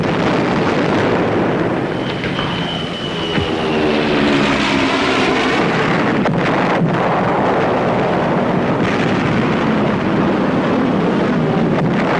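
Enemy warplanes flying overhead in a World War II battle, a loud sustained engine roar with a sweeping drone and heavy wind-like rush throughout, no voices.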